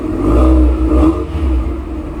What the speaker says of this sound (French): sur ma voiture, il y a un son qui est plutôt pas mal.